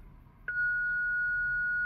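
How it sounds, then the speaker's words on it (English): A car's park distance control sounds a single continuous warning tone in reverse, starting abruptly after a short pause and holding steady, clear and close, over faint low background hum. "It goes beep for 5 seconds, which is an indication that the park distance control system is not working."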